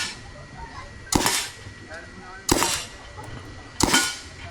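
Three sharp gunshots ring out about a second and a half apart, loud and close, each with a short ringing tail over low background noise.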